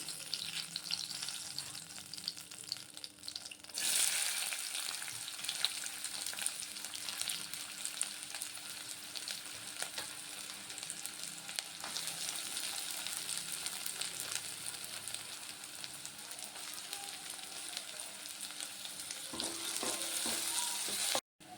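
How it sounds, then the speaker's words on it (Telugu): Onions frying in a pan for tomato masala curry, a steady close hiss that grows louder after a few seconds and runs on with brief stirring scrapes near the end, no talking. "ఉల్లిగడ్డ ఫ్రై అయిందంటే మనం పచ్చిమిర్చి వేసేసుకున్నామండి."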